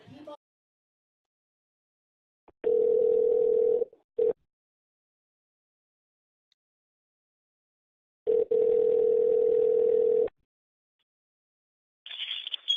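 Two long, steady telephone tones, each about two seconds with silence between, sound clearly from a handset line while a call is placed.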